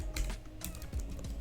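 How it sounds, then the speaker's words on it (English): Keys clatter on a computer keyboard as an email address is typed into an Excel spreadsheet, a quick uneven run of close, soft clicks with no one speaking. "So we type in here"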